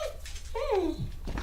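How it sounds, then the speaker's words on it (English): A beagle gives a short, high, wavering whine, close and moderately loud, with faint room noise around it. "You can probably hear the beagle here. She's making some whiny noises."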